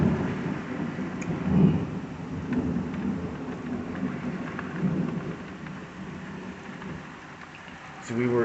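Torrential rain in a thunderstorm with rolling thunder, a continuous wash of heavy rain under low rumbles that peak early and again briefly at the close, moderately loud.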